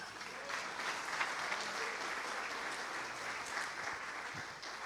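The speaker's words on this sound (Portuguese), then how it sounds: "Aplauda Jesus." A church congregation applauds during a sermon, a steady, fairly faint patter of many hands clapping that continues evenly without speech.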